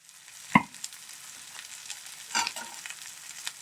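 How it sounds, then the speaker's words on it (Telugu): Salmon pieces frying with onion paste in a pan, a soft continuous sizzle with two sharp clinks of a utensil and quiet stirring scrapes, no voices. "ఇలాగా అంటే మొత్తం ఈ పీసులకి అంటుకుని వేగాలి."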